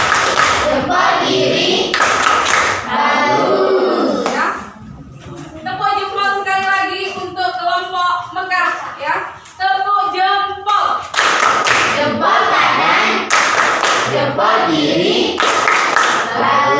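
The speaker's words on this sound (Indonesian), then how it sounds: "Tepuk jempol" An Indonesian primary classroom of pupils doing a rhythmic thumbs-clap cheer, loud bursts of group clapping alternating with children chanting together in sing-song unison.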